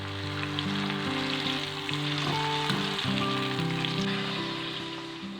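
Guar bean pods deep-frying in hot oil, a steady bubbling sizzle with crackling spatters, heard alone and close while a background melodic tone plays softly.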